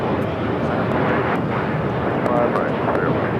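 A CRJ regional jet of United Express SkyWest takes off from LAX, a broad continuous jet roar heard from a distance outdoors, mixed with wind buffeting and faint voices.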